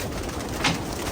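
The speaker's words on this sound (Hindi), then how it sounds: "सारे टेडी और गोल्डन कबूतर हैं भाई।" Teddy and golden pigeons give a single brief coo near the middle, close by, set against steady background noise with no talking.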